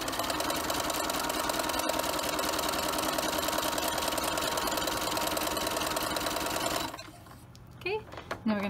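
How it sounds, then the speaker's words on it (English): A home sewing machine runs steadily, stitching across the bottom edge of a reversible fabric mask for about seven seconds, then stops abruptly, leaving quiet room sound and a few soft handling clicks. "So now we're just going to sew across the bottom, and we don't have to stop"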